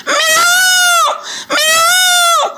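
A man imitates the call of a peacock with two loud, drawn-out, strongly tonal wails. A brief gap separates them, and each ends with a falling note.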